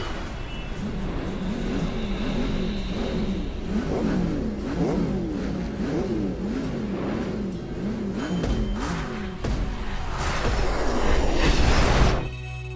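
Stock car racing engines roar and rev in GTA 5, a steady wavering whine of several cars rising and falling, with a louder burst of crashing or skidding near the end.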